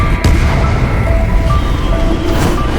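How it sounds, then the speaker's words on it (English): A violent explosion inside a cave gives a loud, sustained low roar with a sharp thump near the start, dense rumbling debris noise throughout and faint tonal ringing above it. "Suddenly, there was a violent explosion inside the cave."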